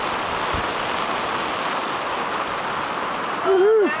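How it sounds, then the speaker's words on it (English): A wind and rain storm sweeping across open water makes a constant, loud broadband rush close to the microphone, and a brief voiced sound rises near the end. "that's some wind and rain right there"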